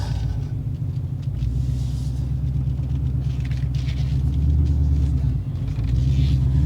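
A modified Ford Mustang making over 700 hp drives along, its engine giving off a steady, loud, deep rumble that stays constant throughout with no talking.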